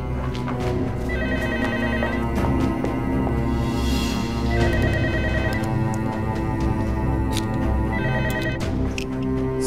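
A telephone rings in three separate bursts of electronic trilling over a steady background bed, with no one speaking.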